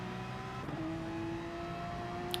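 A Porsche race car engine in a racing video game at Suzuka holds a steady high drone as the car spins, with a continuous whine and no talking.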